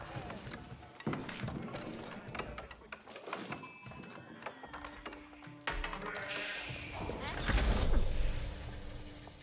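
Sheep bleat in an Age of Empires 4 match, mixed among busy game effects such as hoofbeats and bird calls, with a commentator talking over them.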